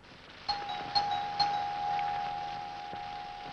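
A doorbell rings at night in an old Hindi film, three bright chimes in quick succession with a sustained ringing tone trailing after them, loud and close, with no speech.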